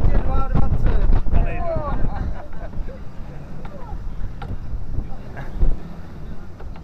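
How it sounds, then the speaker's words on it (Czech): Steady 22-knot wind roars across the microphone on a sailboat over water noise, with people talking briefly at the start. "Peťo, kolik fouká? Fouká teď je 22."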